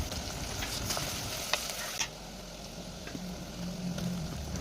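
Two large onions frying in a pan with garlic for a fish curry, a dense close sizzle with a few sharp spoon clinks early on, then a softer steady frying hiss.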